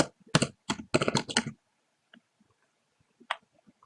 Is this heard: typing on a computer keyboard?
yes